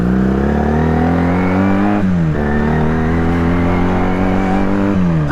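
A Honda CX500 motorcycle with a bobber seat and a loud exhaust that has been quietened rumbles steadily while being ridden, close and loud, with brief dips in pitch as it shifts gears.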